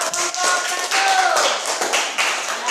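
A classroom group claps for classmates at a university teaching practice session, a dense, continuous patter of many hands at steady loudness throughout, with faint voices mixed in.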